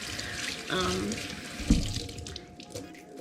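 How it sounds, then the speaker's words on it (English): Hands being washed under a running kitchen tap, a short close splash of flowing water with a brief louder burst midway, no talking. "I'm gonna wash my hands"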